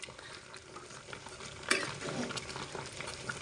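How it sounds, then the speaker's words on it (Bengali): Mango pickle with whole garlic cloves being stirred in a pan, a soft, steady scraping and light sizzle with one sharper clink of the utensil partway through, fairly faint and without talk. "এখন রসুন দিয়ে আমি আবারও নেড়ে ছেড়ে নিব।"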